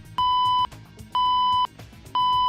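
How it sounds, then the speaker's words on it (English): A loud building evacuation alarm pulses in three evenly spaced bursts, each a steady high-pitched beep separated by short gaps of low background noise. "The evacuation tone will automatically sound on the floor of incidents, one floor above and one floor below."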